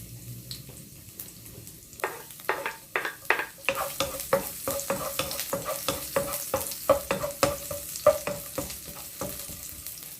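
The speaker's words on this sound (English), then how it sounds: "A little bit of olive oil. Just enough to saute the onions and the garlic." Garlic sautéing in a little olive oil in a pan, heard as a steady close sizzle broken by repeated sharp scraping stirs that quicken into a regular rhythm, with no voices.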